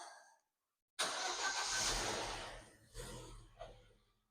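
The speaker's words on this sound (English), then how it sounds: "let's go ahead and start the vehicle up" A car engine cranks and catches after a brief silence, settling into a steady idle with a couple of slight revs, heard close by with no talking.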